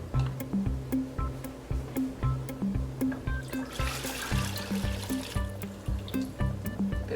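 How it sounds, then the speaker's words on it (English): Water trickles and splashes through a funnel into a water bottle, a continuous pouring stream with rhythmic glugging pulses, close and clear with no voices. "I'm going to use the funnel again, and I'm just going to fill the rest with some water."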